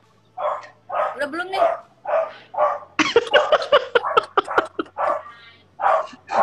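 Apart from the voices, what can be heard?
dog barking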